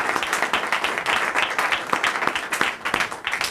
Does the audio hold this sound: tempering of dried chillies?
no